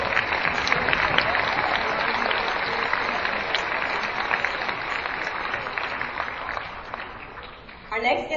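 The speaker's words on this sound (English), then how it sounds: "let's give a round of applause for Justin Raphael" An audience at a veterans assembly applauding a guest, a long, even spread of clapping that carries on for several seconds before a voice cuts in at the end.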